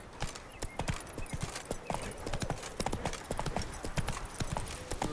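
In The Witcher 3: Wild Hunt video game, horse hooves pound in a fast, dense gallop, a near and continuous drumming clatter with a faint whinny and some background voice.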